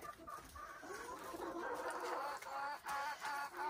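A pet flock of about twenty chickens clucks on a homestead farm, steady soft clucking and murmuring from several birds at moderate distance, with no talk over it.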